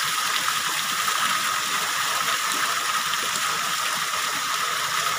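A steady roar of falling water, a constant hiss without pauses, loud and even, with no voices.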